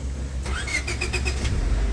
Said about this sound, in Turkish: Fren buton yaptın araç çalıştı.